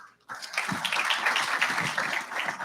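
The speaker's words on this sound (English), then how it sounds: "You can give a round of applause" An audience at an official World Food Day event breaks into steady applause, many hands clapping together in a sustained, fairly close burst after a brief quiet start.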